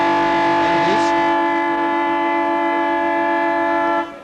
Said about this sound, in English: Just about siren time.